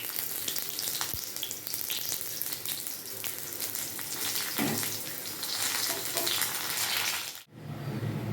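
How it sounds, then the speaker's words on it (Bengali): Continuous oily sizzling of stuffed pointed gourd frying in a pan, dense and steady, with a brief clatter near the end as the pieces are flipped before the sizzle resumes. "এক পিঠ ভাজা হয়ে গেছে, আমি আর পিঠটা উল্টে দিচ্ছি।"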